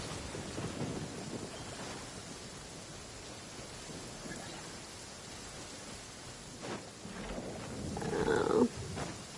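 Thunderstorm in a video game: steady rain hiss with low rolling thunder, building to a louder, closer rumble near the end.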